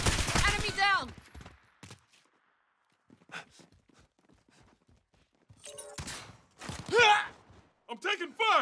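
Sharp bursts of gunfire from a first-person shooter video game crackle in short clusters, separated by quieter gaps, with in-game voices and a player talking in between.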